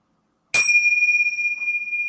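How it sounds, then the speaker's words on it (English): A single bright bell is struck once after a moment of silence, its clear metallic tone ringing on and slowly shimmering as it fades. "will ring our bells"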